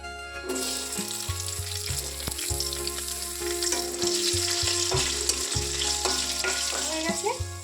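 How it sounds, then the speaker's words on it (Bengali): Potato pieces fry in hot oil with cumin seeds, giving a steady, close, busy sizzle with occasional clinks and scrapes of stirring throughout, and no talk over it. "জিরে ফোড়ন দিয়ে দিলাম একটু। এবার আমি আলুটা ভেজে নেব।"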